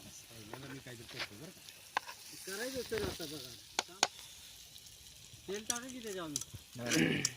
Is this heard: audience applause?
no